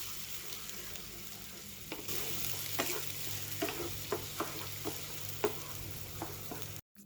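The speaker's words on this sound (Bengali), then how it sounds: "ব্লেন্ড করে রাখা পেঁয়াজটাকে কিছুক্ষণ লাল লাল করে ভেজে নিব।" Blended onion fries in oil in a frying pan with a soft continuous sizzle and a series of short scraping stirs at regular intervals, close but quiet, no voices.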